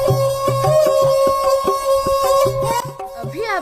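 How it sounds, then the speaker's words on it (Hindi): A Rajasthani folk tune played on a sarangi, its bowed strings singing a steady sustained melody over rhythmic plucked and percussive accents, close and continuous with no talking. "जो कि सारंगी पर बजाई गई यह धुन बहुत ही लुभावनी लग रही थी"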